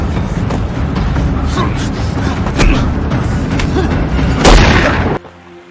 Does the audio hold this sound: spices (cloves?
no